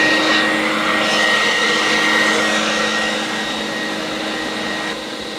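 A shop sump cleaner vacuum sucks coolant out of a machine sump with a loud, steady roaring whoosh that eases slightly just before the end.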